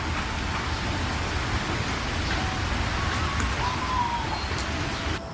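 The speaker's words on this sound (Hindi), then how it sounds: "अचानक जोर की बारिश शुरू हो गई" Heavy rain pours steadily in a cold forest setting, a dense unbroken hiss of falling water throughout, loud and close, with no speech over it.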